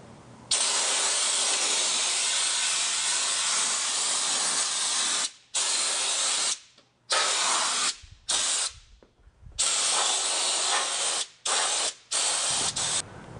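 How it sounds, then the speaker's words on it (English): Armour-Seal undercoating blasting onto a truck's transmission and oil pans, heard as one long, loud, close hiss of spray, then several shorter bursts with quick gaps. No voices are heard. "You can also apply the armor seal to your transmission and your oil pans."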